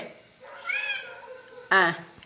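Two pet cats meow close by, a drawn-out rising meow followed by a sharper, louder one, with a person's voice briefly present.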